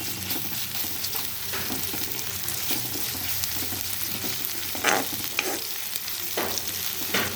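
Ginger garlic paste sizzles in hot oil in a pan while a spoon stirs it now and then, giving a steady close frying hiss with occasional scraping sweeps.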